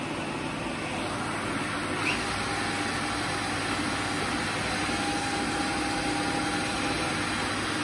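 HAAS VF3 CNC mill spindle running clockwise at 1100 rpm in low gear, a loud, steady mechanical hum and whir with a faint whine rising partway through, constant throughout with no speech.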